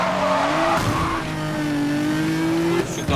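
A Nissan GTR racing in Need for Speed Most Wanted, engine roaring loud and steady while tires squeal in long sustained screeches, close and constant throughout with a brief shift midway.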